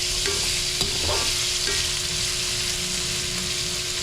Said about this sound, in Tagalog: igisa ko muna tong karne